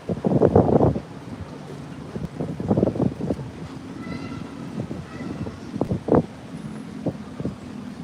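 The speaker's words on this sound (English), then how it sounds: "But I don't mind a little breeze myself." Gusts of wind buffet the microphone in low, irregular rumbling bursts, loudest at the start, with quieter swirling noise between gusts.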